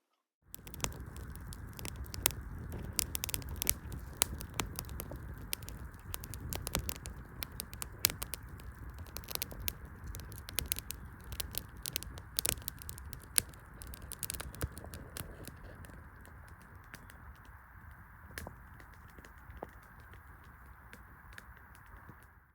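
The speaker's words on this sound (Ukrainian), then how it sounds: "підкинемо і більше зразу дрова, щоб швидше загорілося" A firewood campfire, freshly loaded with extra logs, crackles and pops in scattered sharp snaps over a faint steady hiss, close by and fairly quiet, with no talking.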